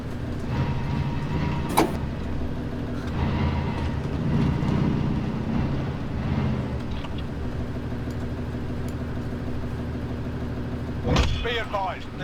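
A truck driven in a multiplayer shooter game hums steadily for about twelve seconds, its engine drone continuous, with a couple of sharp clunks near the start and end.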